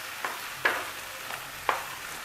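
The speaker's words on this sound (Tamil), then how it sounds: "காய் நல்லா கொஞ்சம் வதங்கட்டும்" Vegetables for restaurant-style sambar rice sauté in a pan: a soft background sizzle broken by several quick stirring scrapes, close by and moderately faint.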